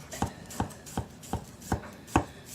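A knife chops onion on a cutting board for a Thanksgiving dressing, six crisp evenly spaced strikes with short gaps, close and clear with no talking.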